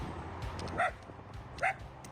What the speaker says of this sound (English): These dogs don't like Doug